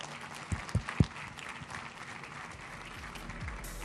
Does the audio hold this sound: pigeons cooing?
no